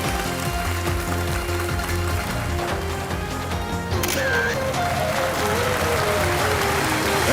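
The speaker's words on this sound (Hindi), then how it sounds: "तालियां बजती रहें देवियों सज्जनों।" Studio audience applause on a TV quiz show set, a dense steady wash of many hands clapping that carries on throughout, with music playing beneath it and camera shutter clicks scattered through.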